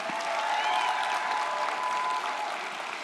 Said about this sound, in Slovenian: En aplavz za Lauro.